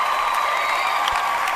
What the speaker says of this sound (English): Let's go ahead and get a round of applause